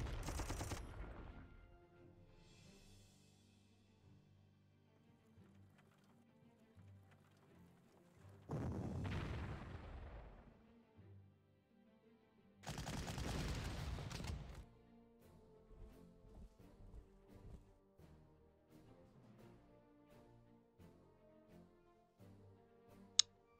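Artillery fire in the World War II strategy game Panzer Corps: three separate booming blasts, each a loud burst lasting about two seconds, with quiet game background noise between them and a sharp click near the end.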